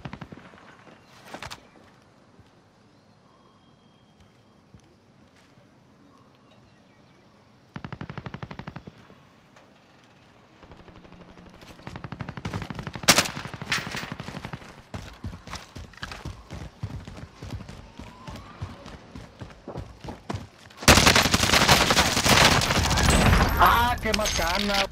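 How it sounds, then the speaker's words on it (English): Gunfire in the Call of Duty Warzone video game in Verdansk, with scattered shots and then dense rapid bursts growing louder, ending in a sustained loud stretch of fire. "I'm getting sniped from somewhere."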